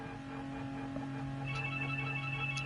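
A telephone rings faintly in the background, a sustained electronic ringtone with steady tonal lines and a brighter repeating tone entering partway through, with no speech heard.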